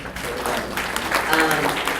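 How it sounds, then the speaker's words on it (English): Clapping from the audience at a League of Women Voters candidate forum in Hays County, fairly loud and continuous with voices mixed into the crowd noise. "I think they deserve a great round of applause"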